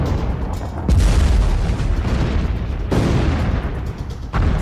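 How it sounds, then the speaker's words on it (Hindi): Russian artillery shelling in the Russia-Ukraine war, with deep booming blasts and a rumbling wash of fire that surges loudly around the first and third seconds, continuous and close, with no voices. "इसके साथ ही रूसी सेना तोपखाने से भी गोलाबारी कर रही है।"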